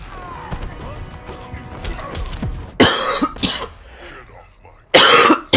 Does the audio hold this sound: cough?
yes